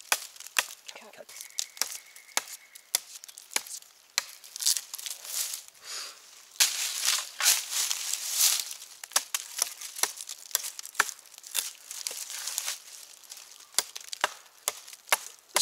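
A Kizlyar Supreme Survivalist X knife chops into very hard wood, giving sharp, irregular woody knocks and splintering cracks, close and fairly loud, with quieter gaps between strikes.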